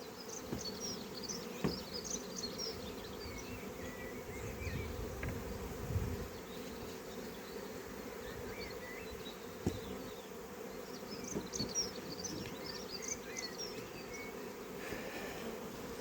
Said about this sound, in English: I've even got bees on my bloody phone